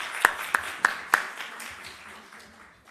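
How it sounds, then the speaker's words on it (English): A few hands clap in a sparse, brief round at a virtual health research conference, four sharp separate claps that fade into a quiet room. "Let us give her another round of applause"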